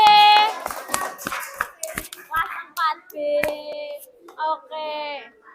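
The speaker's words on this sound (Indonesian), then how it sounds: "Beri tepuk tangan untuk kelas 6 4B" A primary school class claps hands together in a classroom, a few sharp, scattered claps mixed in among the children's chanting and the teacher's voice.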